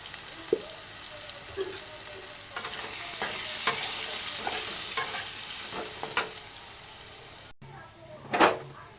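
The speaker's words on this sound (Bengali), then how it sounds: "এ তেলেই আমি আলু ভেজে নেব দিয়ে দেবো" Potatoes frying in oil in a Bengali home kitchen, crackling sizzle with repeated scraping strokes of a spatula, close up, ending in a louder clatter.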